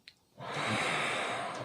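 After a brief intake, a long deep breath is released in a single steady, breathy exhale, close and fairly loud, with no talking.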